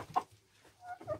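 A hen on a farm gives a few soft, short clucks close by, quiet and intermittent with brief pauses between them.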